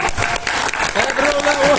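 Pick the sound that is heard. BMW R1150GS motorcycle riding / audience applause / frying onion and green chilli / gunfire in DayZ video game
audience applause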